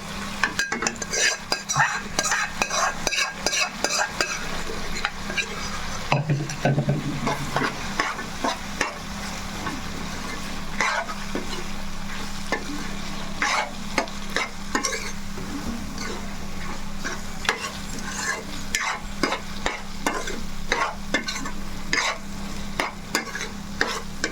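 Boiled gongura leaves stirred and frying in a pan for a prawn curry, with constant close sizzling under rapid, repeated spatula scrapes and clinks against the pan, and no speech.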